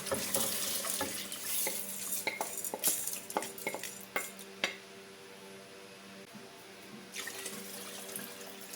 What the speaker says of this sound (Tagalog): Ngayon po ay pwede na natin ilagay ang munggo